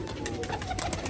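Rajshahi homing pigeons coo softly in short repeated calls close by, with faint background noise.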